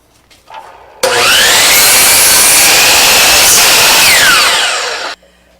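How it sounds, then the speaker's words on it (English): A table saw cuts through a wooden hub for a Canada goose whirligig, a loud sustained whine lasting about four seconds, starting abruptly and tapering off as the blade clears the wood, with quiet shop ambience before and after. "Now we'll cut out 2 hubs"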